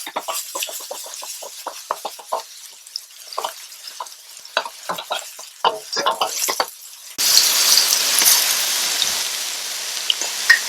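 Onion and celery go into a hot pan for shrimp fried rice, with a run of clicking, scraping stirs followed by a sudden, louder, steady sizzle and hiss that holds close and bright.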